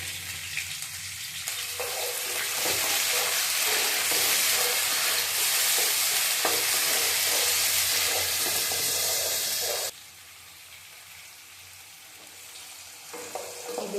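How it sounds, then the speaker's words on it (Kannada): Field beans (avarekaalu) and onion fry in a pan with a loud, dense sizzle and stirring scrapes. The sizzle drops sharply to a quieter hiss partway through. "ಅವರೆಕಾಳು ಸ್ವಲ್ಪ ಫ್ರೈ ಆಗಿದೆ"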